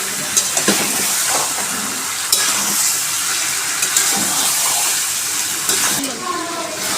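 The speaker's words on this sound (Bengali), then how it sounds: "দেখুন বন্ধুরা কত সুন্দর কষানো হচ্ছে।" Duck meat frying in its own oil in a pan, a steady dense sizzle with occasional scrapes and clicks of stirring throughout, fairly loud and close.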